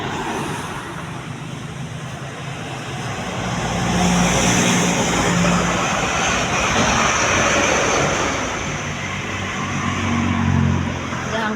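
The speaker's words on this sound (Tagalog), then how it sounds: "Ano, daming truck doon." Heavy trucks work a road during asphalt paving, a broad continuous roar of engines and rolling noise that swells and ebbs over several seconds, with a low diesel drone underneath and no voices.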